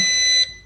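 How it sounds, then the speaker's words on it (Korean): A single short electronic beep, high and steady, cutting off abruptly after under half a second, from a 1:33 scale Bell 206 RC helicopter's controller as it binds. "내려주게 되면 삐 이러면서 이런 소리가 나요"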